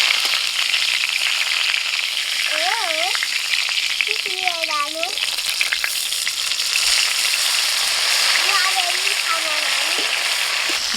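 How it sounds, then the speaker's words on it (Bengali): Fish-stuffed eggplant frying in a covered pan over very low heat gives a steady, soft sizzle throughout, with a voice speaking over it at intervals. "ঢাকা দিয়ে দিয়েই ভেজে নেব।"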